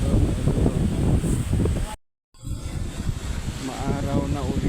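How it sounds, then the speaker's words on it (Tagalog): Steady wind rumbles and buffets the microphone throughout on an island beach after a storm, broken by a brief dropout, with a voice talking over it. "Medyo mahangin pa ng konti."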